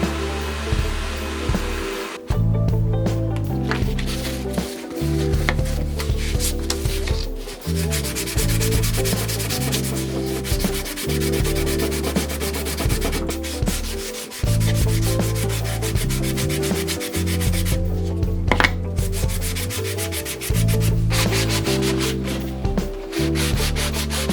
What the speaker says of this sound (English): I also used the sander to make the corners smoother.